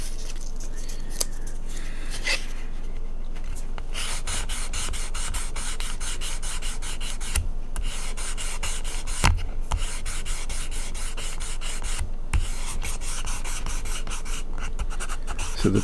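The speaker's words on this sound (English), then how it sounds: "So I'm going to sand them out." Plastic parts from a Star Trek bridge model kit being sanded by hand, a steady close rasping rub that runs almost without a break, with a few brief pauses and scrapes.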